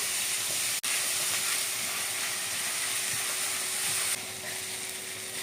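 Chopped onions with green chilli and salt sauté in a pan for Mumbai street-style pav bhaji, giving a steady, dense sizzle throughout that eases slightly near the end, with no talking.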